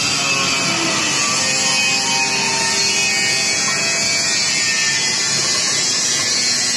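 A Honda Beat scooter's electric starter cranks continuously without the engine catching, a steady whirring drone with a high-pitched whine, loud and close, with no speech.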